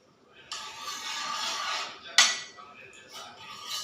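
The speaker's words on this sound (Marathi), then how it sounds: "तर थोडंसं तूप टाकून घेऊया" Ghee goes into a hot pan while beetroot potato tikki are made, giving a soft sizzle and clatter of utensil on metal that rises and falls over several seconds, with a sharper clink midway, close and moderately quiet.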